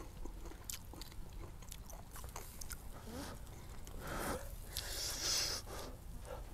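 Close crunchy chewing and biting of crispy grilled rat skin, with repeated irregular crunches alone and fairly quiet.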